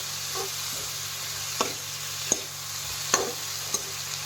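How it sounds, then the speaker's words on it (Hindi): Cut okra (bhindi) cooking on a low flame in a pan, a steady soft sizzle with a few faint scattered pops and spatula scrapes, no voices. "और इसको थोड़ी देर पकने देती हूँ धीमी आंच पर"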